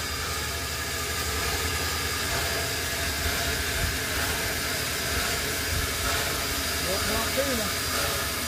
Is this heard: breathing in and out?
no